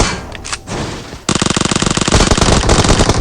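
Uzi submachine gun fire in the mobile battle royale game PUBG Mobile, loud rapid automatic bursts after a brief quieter lead-in, dense crackling shots close up.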